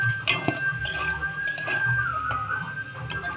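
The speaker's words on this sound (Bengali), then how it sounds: "যে পাত্রে আমি ফুলকপি নামিয়েছি সেই পাত্রের মধ্যে আলুগুলো তুলে নিচ্ছি" Fried potatoes are lifted into a pot that holds cauliflower, giving light metallic clinks and scrapes of a utensil against cookware at close range, with a faint steady whistle behind them.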